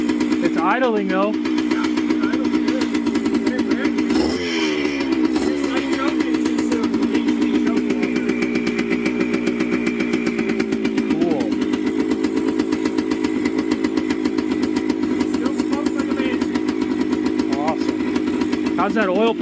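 A Yamaha DT175 motorcycle engine idles steadily up close after a rebuild, a low continuous throb with occasional revs and knocks, while people talk over it.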